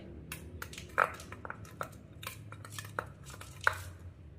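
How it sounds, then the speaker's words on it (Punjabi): Spoon scraping and tapping in a bowl while honey is stirred into a yogurt face mask, giving scattered soft clicks with two sharper taps, close by with no talk. "ਥੋੜਾ ਜਿਹਾ ਆਪਾਂ ਇਹਦੇ ਵਿੱਚ ਹਣੀ ਪਾਵਾਂਗੇ ਇਹਨੂੰ ਆਪਾਂ ਚੰਗੀ ਤਰ੍ਹਾਂ ਮਿਕਸ ਕਰ ਲਾਂਗੇ"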